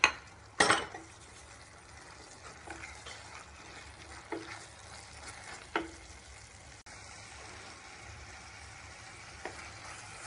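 Spices for a restaurant-style mixed vegetable biryani sizzle quietly in a pan, with a few sharp spoon scrapes and taps against the metal as they are stirred.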